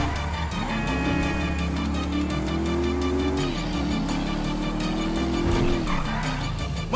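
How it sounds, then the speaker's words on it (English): A powerful 140-cubic-inch motorcycle in Grand Theft Auto V drones steadily and loud throughout, its engine pitch climbing and dropping as it revs, with tire noise mixed in and no talking. "That's a monster fucking bike you riding"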